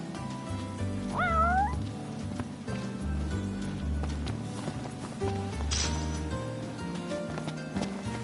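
A cat meows briefly in a Final Fantasy XV game scene, a short rising cry heard once over steady background music and ambient game sounds, with no talking.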